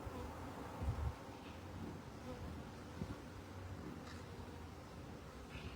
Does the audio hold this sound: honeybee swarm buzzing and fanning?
yes